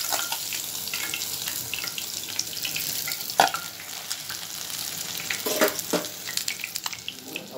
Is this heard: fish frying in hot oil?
yes